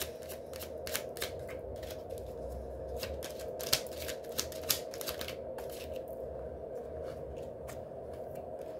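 A deck of cards being shuffled by hand before one is drawn, a steady papery riffle of quick snaps with a few sharper flicks, close and clear with no talk over it.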